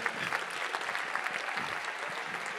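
Steady, even applause rises from the audience at a 2023 Mayenne sports awards ceremony, honouring an athlete with a continuous wash of many clapping hands.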